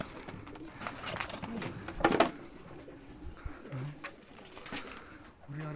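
Pigeons coo and rustle inside a derelict building, soft throaty calls repeating amid scattered shuffling and wing noise, with a sharper flurry partway through and a low background hum.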